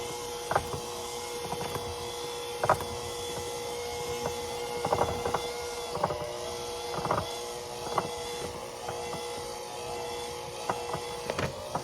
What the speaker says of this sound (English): we're going to just use the mixer